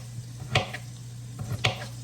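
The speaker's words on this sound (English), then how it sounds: "put this in the pan for the fried cabbage" Cabbage sizzles softly in a pan under a steady low hum, with a couple of sharp scraping stirs of a utensil.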